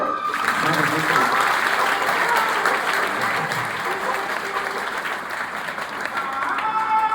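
An audience claps steadily throughout, a sustained round of applause with faint voices mixed in beneath it.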